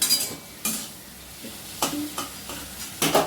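Capsicum fries in a pan with onion and garlic, a soft sizzle broken by several sharp spatula stirs and scrapes at an irregular rhythm, close and with no talk.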